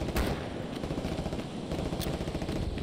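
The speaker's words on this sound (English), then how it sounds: "I think we're actually taking fire combat up here in this trench line" Gunfire in the World War II shooter Hell Let Loose on PS5, from a trench line under attack, a steady rattle of distant rifle and machine-gun shots with a couple of sharper cracks, no talk.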